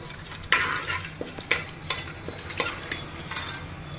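Whole spices, a bay leaf, a piece of cinnamon and shahjeera, fry in a pan with a soft continuous sizzle while a spoon scrapes and taps the metal in several quick, irregular strokes, heard close up.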